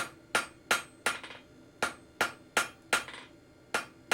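Hammer tapping hot iron on the edge of an anvil while forging a decorative twist, about ten sharp ringing strikes at an even, unhurried pace, close and clear.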